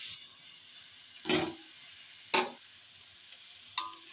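Three brief rustling scrapes, well spaced, as washed kharkol leaves are stirred in a dry wok, over a faint steady background hiss.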